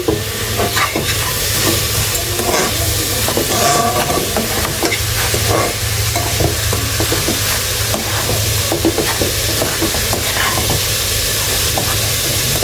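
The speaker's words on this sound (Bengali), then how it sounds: "দিয়ে আমি ভালোভাবে লাচ্চার সাথে মিশাই নিচ্ছি" Lachha being stirred together with cornflake meal in a hot pan, a loud, dense hiss and sizzle running throughout with repeated scraping and rustling from the mixing.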